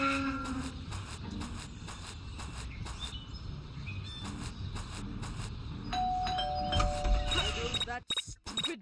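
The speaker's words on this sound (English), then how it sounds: "That stupid bell again." A doorbell rings in the Scary Teacher 3D mobile game, bright ding-dong chimes sounding over game background noise, with a final cluster of tones before an abrupt cutoff near the end.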